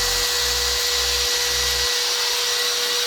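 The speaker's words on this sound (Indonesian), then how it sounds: "kita coba nyalain Gerindanya itu gerinda." An angle grinder runs on power from a car's inverter, giving a steady high whine with a low motor rumble that pulses briefly and then settles, continuous and fairly loud.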